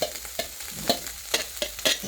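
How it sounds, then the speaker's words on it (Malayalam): Cooked rice being stirred with meat in a frying pan: regular scraping strokes about twice a second over a soft sizzle, close up, with no talking. "ഇപ്പോൾ നമ്മൾ ഇളക്കി യോജിപ്പിക്കുകയാണ്"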